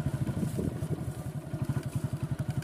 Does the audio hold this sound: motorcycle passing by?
yes